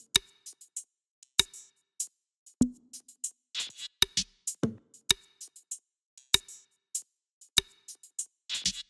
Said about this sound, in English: I grabbed this rim shot and some of this other percussion.